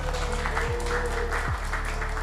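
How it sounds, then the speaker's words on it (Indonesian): An audience applauds for Prof Zainal, a continuous wash of clapping under a loud low hum, steady throughout. "tepuk tangan untuk beliau"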